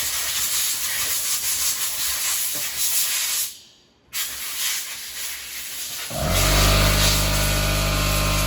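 Compressed air hisses loudly and steadily while blowing off a Stihl 090 chainsaw part, breaking off briefly midway, then an air compressor kicks on with a low droning hum.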